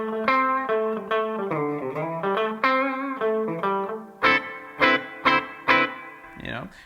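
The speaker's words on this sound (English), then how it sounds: "go to 12 o'clock with the reverb, I'll turn that tone back down. You have this, that kind of reverb sound there." Guitar through a Blackstar HT-5RH valve amp with its digital reverb set at 12 o'clock, playing a melodic run of sustained notes and then several sharp strummed chord stabs, each trailed by a moderate reverb tail.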